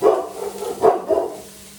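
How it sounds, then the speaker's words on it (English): Dogs bark at the mailman from inside a home kitchen, a few muffled barks and yips at mid distance, irregular and moderately loud, fading out at the end. "there goes my dogs. Apparently the mailman's here."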